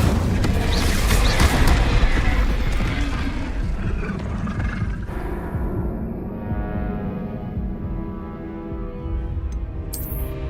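An Incendio fire spell cast in Hogwarts Legacy, a loud whooshing roar and booming burst up front that settles into a lower rumbling hum, with a sharp bright flick at the end.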